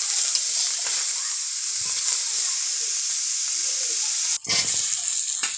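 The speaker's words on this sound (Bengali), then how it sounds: "ওই মাছেরই তেলে মা পেঁয়াজগুলো দিয়ে দিচ্ছে, হালকা করে একটু ভেজে নেবে পেঁয়াজগুলো" Onions fry in hilsa fish oil in a home kitchen, a loud, dense, steady hiss of sizzling close up, briefly dipping and then resuming with a burst of stirring noise near the end, no voices.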